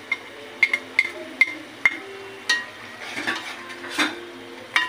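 A utensil clinks and scrapes against a pan while spice paste made with ground cumin is stirred and fried, giving a series of sharp metallic taps with faint sizzling beneath.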